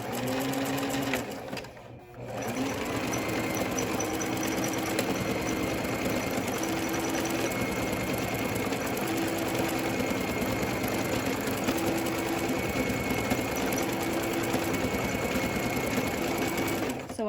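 A sewing machine stitches back and forth over a fleece rat cage liner, a close, continuous rapid mechanical whirring with a brief pause near the start and periodic motor tone changes.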